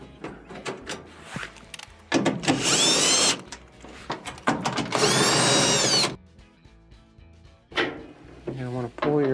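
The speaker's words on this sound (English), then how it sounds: "take your blower housing, remove the screws for that" A power drill backs out the quarter-inch screws on the blower housing of a Whirlpool dryer, with two loud whirring bursts of a second or more each, close by, and a voice talking before, between and after them.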